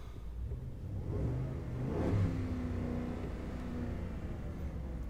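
A 6.2-liter gas V8 in a pickup truck revs up once from idle, a smooth, fairly quiet rise and fall in engine tone with a steady low rumble before and after, close by and alone.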